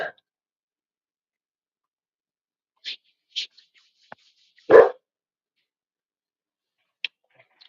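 A dog at home gives a few short, sharp barks, scattered across several seconds of near silence, with one louder bark in the middle, close and alone.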